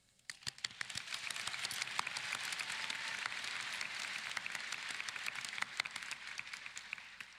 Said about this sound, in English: Please join me in a round of applause to thank the entire staff here at Jiffy Lube Live.